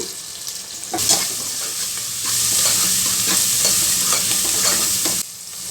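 Frying in oil with salt and turmeric for moong dal sambar, a loud continuous sizzle broken by repeated scraping strokes of a spoon stirring the pan, close by and with no talking.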